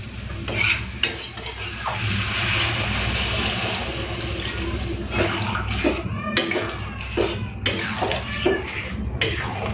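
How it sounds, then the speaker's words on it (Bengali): Water poured and stirred into an egg, broccoli and potato curry in a pan, a continuous close wash of splashing liquid followed by scraping spoon strokes and clinks against the metal pan. "তো জল দিয়ে ভালো করে মিশিয়ে নিয়েছি"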